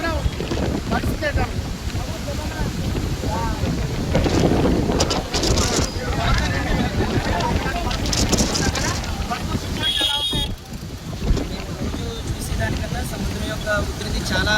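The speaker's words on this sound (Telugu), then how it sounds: "విపరీతమైన సుమారు ఒక 20 కిలోమీటర్ల వేగంతో గాలి వీస్తున్నాయి" Strong cyclone wind from Cyclone Montha buffets the Visakhapatnam seashore, a steady loud roar of gusts and microphone rumble with the churning sea underneath, continuous throughout.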